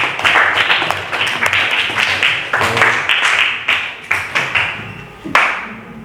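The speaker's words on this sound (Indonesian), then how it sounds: "Ya, beri tepuk tangan untuk Diva." Students in a sociology classroom applaud a classmate, a burst of clapping that runs steadily for several seconds with a few sharper individual claps near the end, fairly close and loud.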